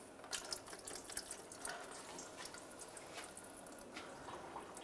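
Fluid trickles and drips from the underside of a 2007-2013 Chevy Silverado into a drain bucket during rear main seal work, a steady close liquid patter with a few brighter drips and no talk.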